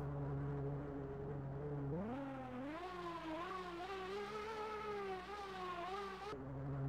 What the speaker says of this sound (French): la montée des régimes moteurs en son est correcte